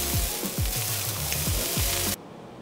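Meat sizzles loudly in a hot pan for meal prep, a dense broadband crackle with a few low thumps, cutting off abruptly near the end to a quieter hiss.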